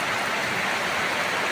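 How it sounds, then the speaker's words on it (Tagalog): Heavy rain pours down in a forest, a dense, steady hiss with no break and no voices. "Ayan po ang lakas ng ulan mga kaibigan."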